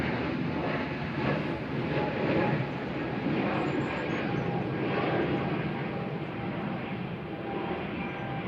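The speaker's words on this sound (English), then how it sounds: "GUZLP heading off to Paris Charles de Gaulle, little A320 Neo here with flight 2111 for EasyJet." EasyJet Airbus A320neo departing Manchester Airport, a steady broad jet engine roar sustained throughout at fairly close range, with no pauses.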